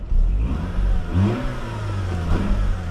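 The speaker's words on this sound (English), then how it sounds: "Let's rev her a bit." A clean 2005 Mazda RX8 rotary engine revs up a few times, its pitch rising and falling over a low idle, loud and close with no talking.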